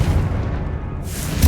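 Confringo explosion spell in Hogwarts Legacy: a single deep, booming blast with a rumbling low tail, loud and close, with a short sharp burst just before the end.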